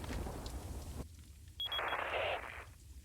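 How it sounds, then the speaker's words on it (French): Rain falls in the video game Resident Evil 4 as a faint, steady hiss that cuts out abruptly, then returns as a brief brighter wash of sound. "il n'y a que le son de la pluie"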